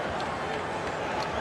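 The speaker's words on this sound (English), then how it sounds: "you hear the chant of Kobe from this crowd here at Staples" An arena crowd at Staples Center during an NBA Finals game between the Lakers and 76ers keeps up a dense, steady roar, with rhythmic chanting of Kobe blended into the loud babble.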